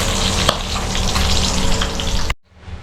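Tomatoes, garlic and onions sautéing in a pan give a steady, loud broadband sizzle with no talk, running for over two seconds before cutting off abruptly into near silence.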